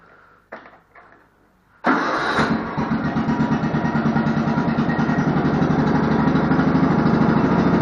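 A small Efco lawn tractor mower engine cranks a few times, then catches and settles into a loud, steady idle with a rapid, even chugging rhythm, close by.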